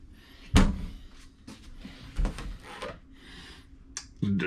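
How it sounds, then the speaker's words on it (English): Wooden cabinet drawers in a tiny house are pulled out one after another, giving a few close, hollow knocks and sliding thuds separated by quiet room tone. "Got some nice drawers here."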